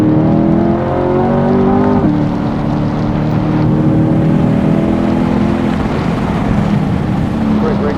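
Steady engine drone of a car heard from inside the cabin while driving, with a pitch drop around the two-second mark like a gear change, then continuous road and wind rush.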